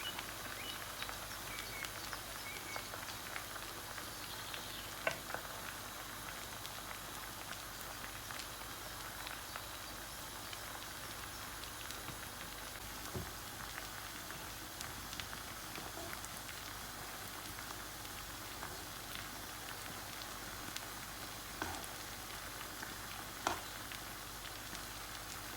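Kofta balls frying in foaming oil in a Bengali kofta curry kitchen, a steady soft crackling hiss with scattered pops, faint and continuous throughout with no voices.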